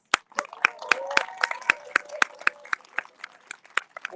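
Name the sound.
crowd applauding at a rally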